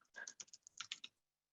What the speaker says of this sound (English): Just typing an answer into a question here.